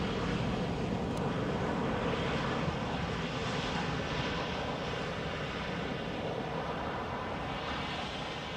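Jet engines of EasyJet aircraft at Amsterdam Schiphol Airport roar in a steady, loud, continuous wash of broadband noise that holds level throughout, with no speech.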